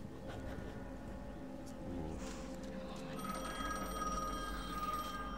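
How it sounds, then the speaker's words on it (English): Telephone rings in a spooky abandoned hospital in the video game The Medium, a faint electronic trill under a low droning ambience with rumbling background. "Oh, the phone's ringing."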